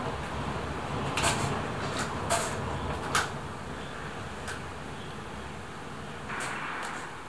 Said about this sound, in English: It's literally a huge piece of metal came off of something and is flying around the